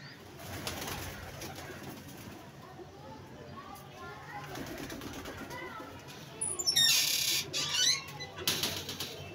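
Pigeons kept as a hobby coo softly and chirp near a loft, a faint scatter of calls with a brief burst of wing flapping midway, while someone talks over them.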